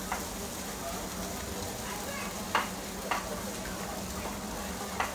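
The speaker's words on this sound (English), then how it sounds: "the trick is just to keep beating and beating the cheese into the mash" Lancashire cheese being beaten into mashed potato in a pan for aligot, a soft wet stirring and scraping under steady low sizzle, with a few sharp knocks of the spoon.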